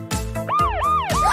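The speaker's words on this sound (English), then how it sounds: "It's okay, kids. It's only an ambulance." A cartoon ambulance siren wails with rising and falling sweeps, mixed with bouncy cartoon effects, loud and close over a brief stretch.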